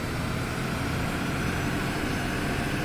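A Skoda 21AB bus in the OMSI 2 game pulls at full throttle with a steady, loud, dense engine roar that holds unchanged throughout, with no talk over it.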